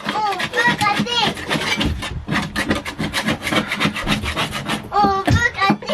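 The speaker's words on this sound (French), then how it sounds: "Je voulais gratter aussi. Oui, on peut gratter, on peut gratter." Loud, close rasping as a tool scrapes the old camper van, a rapid back-and-forth rhythm that runs almost without a break while voices talk over it.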